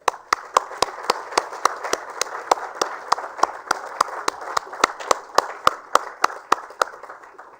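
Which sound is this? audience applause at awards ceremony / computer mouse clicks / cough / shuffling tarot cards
audience applause at awards ceremony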